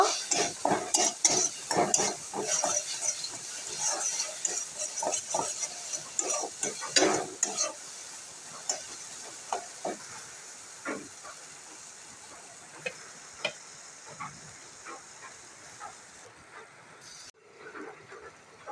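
Paneer curry masala with turmeric is stirred and sautéed in a pan, with scraping spoon strokes over a soft sizzle. It is busy and close at first, then thins to sparse scrapes and a faint hiss.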